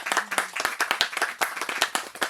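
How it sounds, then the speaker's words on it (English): A small group claps at a garden celebration, a light patter of separate hand claps that stays fairly quiet and uneven for a couple of seconds. "please, everybody, give a round of applause"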